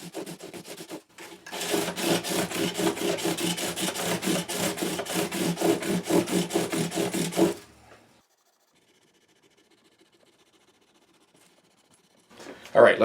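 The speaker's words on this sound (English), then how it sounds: "we'll give this area a little bit of a scrub again" Rapid rhythmic scrubbing strokes work the neck joint area of a 1962 Gibson SJ acoustic guitar for about six seconds, steady and fairly close, then stop. Near silence follows before a brief louder sound at the end.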